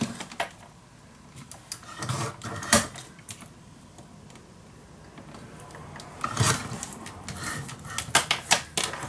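Paper is cut to size for a handmade card folio, giving quiet, close clicking and slicing strokes in two separate bursts, with calmer stretches between and no talking.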